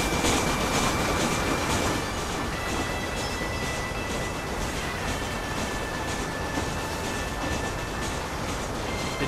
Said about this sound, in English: This is a cheap fucking train.